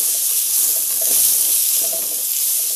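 Chopped onions frying in hot oil for a spicy chicken dish, a steady close sizzle with soft bubbling crackle, no talking.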